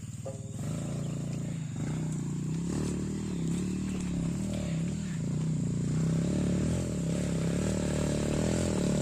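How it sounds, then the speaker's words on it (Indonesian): A motorcycle labors up a steep hill on a cliffside oil palm plantation, its engine revving and straining with rising and falling pitch, loud and continuous alongside scraping clatter. "Apakah motornya nanjak?"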